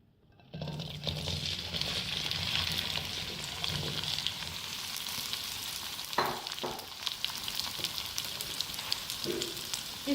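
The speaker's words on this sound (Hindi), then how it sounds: "इसको हम फ्राई करेंगे।" Okra sizzles and fries in about one and a half cups of hot oil in a kadai, a steady dense crackle that starts abruptly and carries on throughout, with a few faint stirring knocks.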